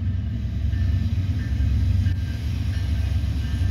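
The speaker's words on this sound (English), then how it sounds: "This train is proceeding from being stopped at Low Oak Road." A short Norfolk Southern northbound intermodal freight train starts moving again after being stopped at a crossing: a steady, heavy low rumble of diesel engines and rolling cars, close and continuous with no talk.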